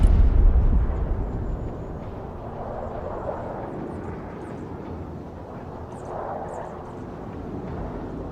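Support aircraft flying in during the video game Broken Arrow, starting with a heavy low rumble that fades into a steady jet-like roar with swelling passes, mid-distance and continuous.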